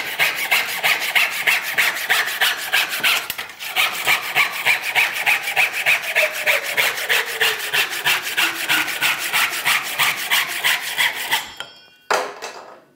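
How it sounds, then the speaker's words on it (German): Steady rhythmic rasping strokes of a Ryoba Japanese pull saw crosscutting wood, even back-and-forth pushes close by, with a brief pause partway and the final strokes breaking off near the end. "Und ein Querschnitt mit der Querseite unserer Ryoba."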